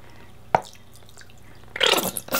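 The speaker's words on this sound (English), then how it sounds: "I'm gonna use all the soap that's left in my bottle" Dish soap drips out of a nearly empty squeeze bottle into a dishwasher: a single close wet drip, followed after a pause by louder squishy splattering bursts near the end.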